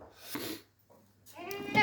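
Two short, nearby bleats from a goat, separated by a brief pause, the second rising and wavering.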